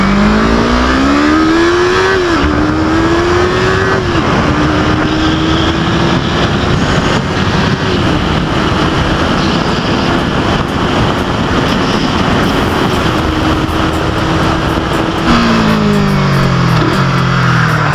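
A 2019 Yamaha R3 sport motorcycle is ridden, its engine droning loud and steady with rising and falling pitch as it accelerates and shifts, and wind roar fills the background.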